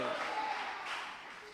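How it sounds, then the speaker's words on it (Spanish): A church congregation applauding loudly during a sermon, a steady wash of clapping with crowd noise that holds evenly throughout and tapers slightly at the end. "Del aplauso fuerte al Rey de la Gloria."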